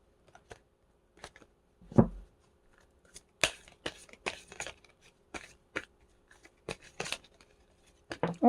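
Tarot cards being shuffled by hand to draw an advice card, crisp riffling and slapping bursts in irregular clusters, close and clear against a quiet room.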